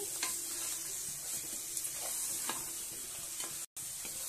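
Mutton head pieces being mixed in a pan with turmeric, a soft steady sizzle under intermittent spoon scrapes, fairly quiet and close.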